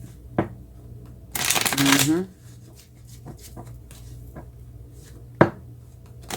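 Tarot cards being shuffled by hand, giving a brisk riffling burst of about a second amid quieter tapping and handling sounds, with a few sharp knocks.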